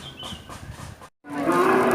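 A calf or cow lows loudly and close by at a busy village cattle market, with a short gap in the middle of the bellow. Livestock and market noise fill the background.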